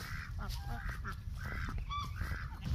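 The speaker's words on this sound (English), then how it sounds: "The ducks are enjoying themselves." Ducks set loose outdoors give repeated nasal honks and quacks in an irregular chatter, close by and clear, over a low background rumble.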